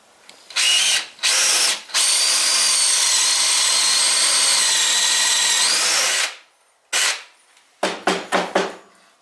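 A power drill bores into a wooden craft-figure body with a slightly blunt bit, whining loudly and steadily for several seconds, stopping, then giving a few short bursts near the end.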